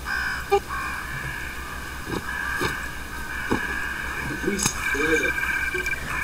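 Crows caw a few scattered times in an animated scene, over a low steady hum, while voices talk.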